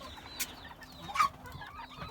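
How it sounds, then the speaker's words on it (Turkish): A domestic chicken clucks in short, scattered bursts in a snowy yard, fairly faint and a little distant, with a few sharper calls standing out over a quiet background. "Tavuğumuz."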